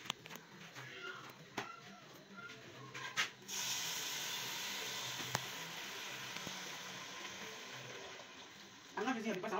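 Tomato, pepper and onions frying with dry egusi in a pan give a steady, close sizzling hiss that starts abruptly and holds loud to the end, with faint talk underneath before it begins.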